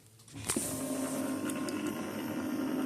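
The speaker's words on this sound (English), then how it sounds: "that's a sound of the scanner arm" A quiet mechanical whir from an Epson ET-4800 printer's scanner arm starts with a soft clunk and carries on as a steady hum, with a few faint ticks, during initialization after a reset.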